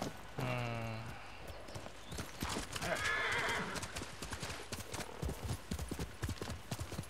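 Horses in the video game Ghost of Tsushima neigh loudly at the start, then hooves clatter in quick, uneven galloping rhythm, close and busy, with faint voices in the background.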